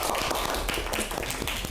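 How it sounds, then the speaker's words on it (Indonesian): Applause from an audience in an Islamic philosophy lecture class, a dense steady patter of many hands clapping together for a couple of seconds, with no speech over it. "Tepuk tangan."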